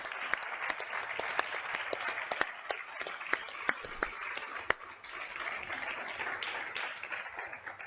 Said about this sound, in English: Please, can you give a big round of applause and a big thank you to our drivers and to Philly.